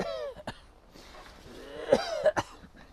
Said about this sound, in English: I'm not supposed to cough.